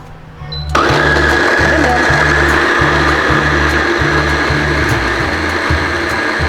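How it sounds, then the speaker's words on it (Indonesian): A baby food blender whirs loudly while pureeing corn porridge, a close, continuous motor drone with a pulsing low hum that kicks in abruptly after a short quiet start and runs steadily. "Lalu kita blender. Nah, di sini Mami menggunakan alat baby pure."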